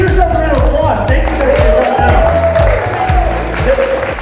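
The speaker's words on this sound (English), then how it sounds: "give yourself a round of applause" Crowd at a Denver Founders Network event giving a loud round of applause, dense clapping and cheering mixed with heavy booming low thumps and murmuring voices throughout.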